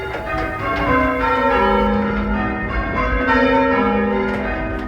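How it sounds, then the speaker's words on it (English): Several church bells of Litcham ring in overlapping peals, loud and resonant, tones layering and sustaining without pause. "For comparison, here's how they sounded before."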